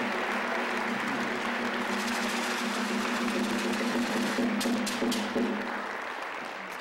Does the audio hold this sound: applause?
yes